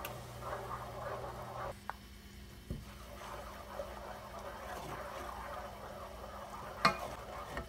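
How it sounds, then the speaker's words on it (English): A spoon stirs flour, a spoonful at a time, into melted light butter for a roux, giving soft, quiet scraping and gentle bubbling with a few faint ticks and clinks close by. "we're going to stir in a spoonful of flour at a time to make the"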